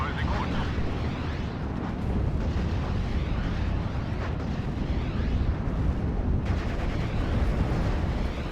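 Battle din from the WWII strategy game Steel Division: Normandy 44, where a Panther tank takes a long-range shot, sounds as dense, continuous booming and rumbling explosions that blend into one loud roar.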